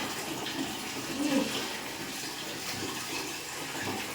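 Water poured over the body during a morning bath on a cold day, with a gamcha worn. A steady, close rushing splash runs throughout at an even level, with no voices.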